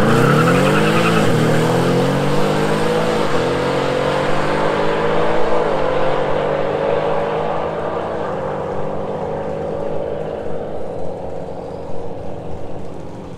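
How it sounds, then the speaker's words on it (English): Supercharged 2019 Mustang GT with an Edelbrock supercharger launching at a drag strip as its tires spin for traction, the loud engine note rising and falling through several revving surges, then fading as the car pulls away. "I made a test hit here. And as you can tell, traction was an issue."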